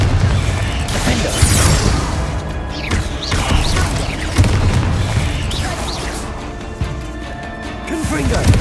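Repeated magical blasts from the Confringo fire spell in Hogwarts Legacy, a dense run of booming bursts and crackling impacts inside a mine, overlapping with combat clatter and shouted spell names throughout.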